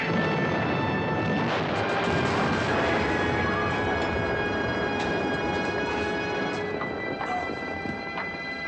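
Cannon fire in an episode of the TV series Voyage to the Bottom of the Sea, heard as a dense, continuous rumbling barrage with booming blasts, loud and unbroken throughout.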